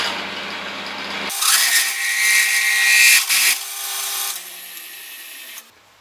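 A milling machine fitted with a 10 mm cutter chamfers the edges of a homemade broaching tool, a loud close high-pitched whine and rasp that starts abruptly, holds for about four seconds, then drops away.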